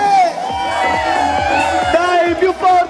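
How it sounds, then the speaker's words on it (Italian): A crowd at a reopened holiday village gives a loud, sustained shout and cheer with whoops, voices blending in a near, dense roar for a few seconds. "ci siamo, l'urlo più forte"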